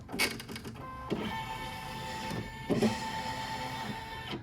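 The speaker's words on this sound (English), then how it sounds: "I'm going to touch the screen. The carriage of the embroidery will move." Carriage of a Brother NQ3550W embroidery machine moving, a mechanical motor whir with humming tones and several clicks and clunks as it travels and stops, close and alone.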